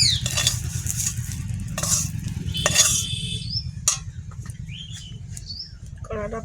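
Previously fried prawns are being refried in a kadai wok, heard as near metallic scraping and clattering stirs with a soft sizzle, while birds chirp faintly in the background.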